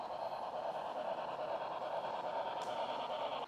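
A model train with coupling problems runs on a large layout at an indoor scale model train show, giving a faint, steady whirring hum with soft rolling noise and no clear voices.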